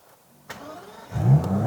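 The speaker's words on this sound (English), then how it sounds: "push the big crystal button in the middle of the dash and start her up" An Aston Martin DBS Superleggera with a quad exhaust system starts up after a push of the crystal dash button. A short starter crank gives way to a loud, close engine catch and a rising rev.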